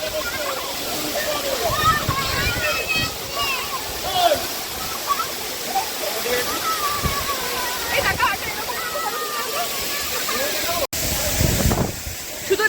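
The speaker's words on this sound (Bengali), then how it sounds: "এটাই হচ্ছে ছাঙ্গে ফলস।" Rushing water of Changey Falls, a waterfall reached on foot, pours as a steady broadband roar that fills the whole stretch, with a voice speaking briefly over it.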